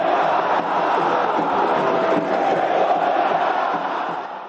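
São Paulo football supporters roaring and shouting together as a dense, loud crowd, a steady wall of voices that holds for several seconds without letting up.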